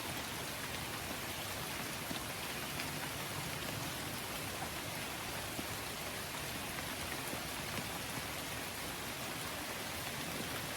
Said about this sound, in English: this tree is really covering a lot of the rain